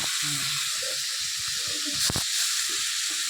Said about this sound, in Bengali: ঝিরিঝিরি করে আলুটা কেটে কড়ার মধ্যে এবার ভাজবে